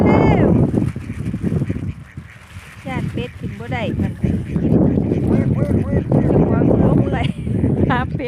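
Muscovy ducks quack in short, repeated bursts close by, mixed with a voice calling to them across a wet, noisy outdoor setting.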